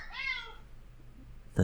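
Domestic cat giving a single short rising meow, close and fairly quiet, followed by a brief thump and faint background noise.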